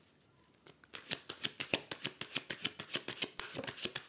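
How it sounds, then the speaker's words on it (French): A Tarot des Enchanteurs deck being cut and shuffled by hand at close range: a soft rustle, then a quick, steady run of papery card flicks and riffles with no talking. "je fais une petite coupe avec le tarot des enchanteurs"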